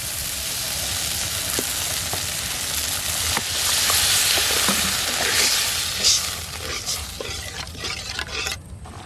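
Masala sizzles in a pan for pomfret curry as water is poured in, a steady loud frying hiss that swells briefly into a brighter steamy burst, with light stirring taps toward the end.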